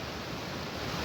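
River rapids in Inverness give a dense, unbroken roar of rushing water, loud and even for the whole short stretch with nothing else audible over it.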